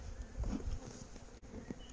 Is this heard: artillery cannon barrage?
no